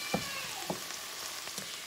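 Sausage browning in a pan while being chopped into pieces for goulash, a soft steady sizzle broken by a few faint utensil clicks and scrapes.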